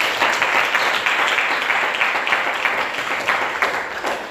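An audience bursts into sustained, dense applause and clapping at a church service, loud and continuous from start to finish.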